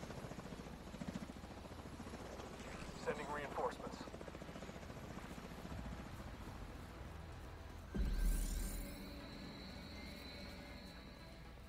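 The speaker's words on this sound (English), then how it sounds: "I hear a chopper, but I don't see a chopper." A helicopter in the video game The Division 2 whirs steadily through the scene, moderately loud and continuous. A voice speaks over it, and a brief loud burst of game effects cuts in partway through.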